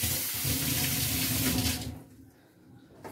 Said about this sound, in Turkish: ellerimi yıkıyorum